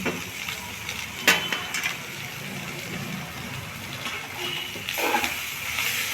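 Chopped winter vegetables and boiled potato stirred and frying in a pan for a veg roll, with a steady low sizzle and a couple of clinking scrapes of the spoon.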